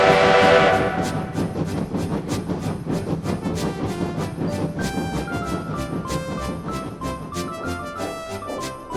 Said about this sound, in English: train glided into the station